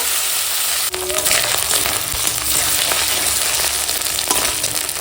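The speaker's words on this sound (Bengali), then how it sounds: "আলুটা হালকা ভাজা হয়েছে" Potatoes fry in oil with a dense, steady hiss and crackle up close, broken by occasional stirring knocks and scrapes, with no voices over it.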